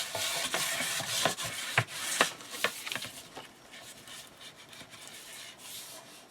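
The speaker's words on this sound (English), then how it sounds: "let's just flip it over and do a little bit of burnishing" Paper on a craft display box is burnished with a tool, making soft, close rubbing and scraping strokes with little taps. The strokes are irregular at first and grow quieter and smoother toward the end.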